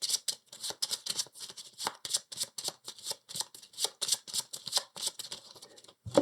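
Playing cards shuffled into a deck during a Marvel Champions card game, a rapid run of crisp riffling bursts that repeats steadily and close up, with no talking.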